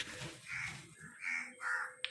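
Several harsh crow caws in a loose sequence, three or four calls spaced apart, fairly close and clear over a quiet background.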